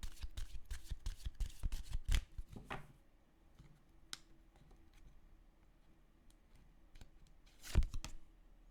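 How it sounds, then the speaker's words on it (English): Prism Oracle cards shuffled by hand in a burst of quick riffling flicks, then a sparse click or two and a final sharp snap of the deck near the end, close and alone. "I'm just going to pull you a couple of Prism Oracle cards to start with."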